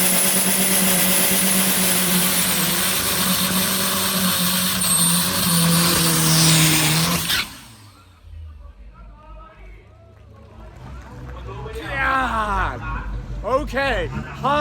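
A 4-cylinder turbo diesel drag racing truck with a huge hood-mounted turbo roars loudly through a pass for about seven seconds, then cuts away to quiet track ambience with voices and a faint distant engine.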